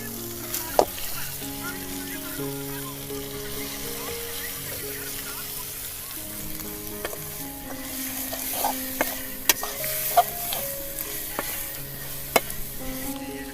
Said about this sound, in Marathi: त्यामध्ये आपण चिकन टाकतोय आता